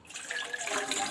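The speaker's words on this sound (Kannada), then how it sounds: "ಒಗ್ಲೋದಕ್ಕೆ ನೀರು ಹಾಕೋಣ" Water is poured into pots for boiling in a steady, close splashing stream that grows slightly fuller as it continues, with nothing else heard.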